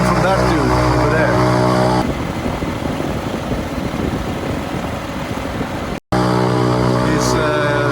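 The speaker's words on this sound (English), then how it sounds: "servicing some kind of engine over there." An engine being serviced nearby runs with a steady, loud mechanical drone that dominates throughout, briefly cutting out near the end before resuming.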